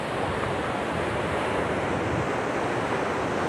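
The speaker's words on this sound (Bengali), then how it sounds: "আর খুব সুন্দর হাওয়া দিচ্ছে, দারুণ ঢেউগুলো দেখো" Sea waves roll in at a Mumbai beach with big rocks along the shore, a loud, continuous surf roar mixed with gusty wind buffeting the microphone.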